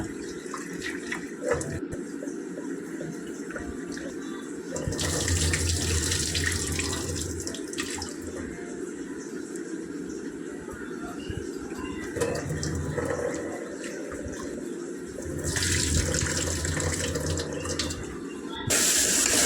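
Tap water runs into a sink while dried anchovies are rinsed and washed by hand, a steady close splashing stream that swells and churns in several bursts with no talking.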